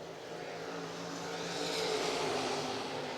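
A late model race car at Lancaster Motor Speedway runs a qualifying lap, its engine a faint, far-off drone that builds gradually as the car comes around, heard alone without voices.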